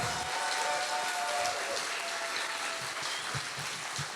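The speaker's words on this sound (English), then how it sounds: "Give them a big round of applause." Steady, moderately faint applause from a theatre audience at a poetry launch event, continuous clapping throughout with no break.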